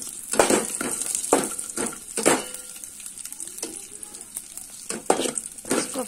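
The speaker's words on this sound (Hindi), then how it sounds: "हमारे ड्राई फ्रूट फ्राई हो गए" Dry fruits frying in hot oil for rice kheer, a continuous soft sizzle broken by repeated sharp scrapes and clinks of a spoon stirring in the pan, close and fairly quiet.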